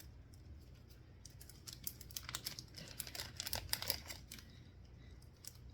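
Sticker packaging from a UV resin craft kit being opened by hand, a quiet, close run of crinkling and snapping plastic and paper that builds in the middle, then settles.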